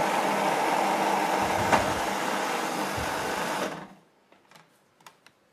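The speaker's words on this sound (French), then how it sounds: "Bon allez, on va mixer." A kitchen blender purees onions for Moroccan couscous with a loud, steady whirring roar for about three and a half seconds, then cuts off, leaving a few faint clicks and knocks.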